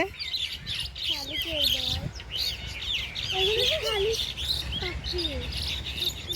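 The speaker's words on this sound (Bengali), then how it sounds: "দেখেন গাইস, পাখিগুলো কেমন মারামারি করছে।" Birds fighting outdoors give sharp squawks, rising and falling chirps and rapid twittering, overlapping and agitated, close and fairly loud over a noisy background.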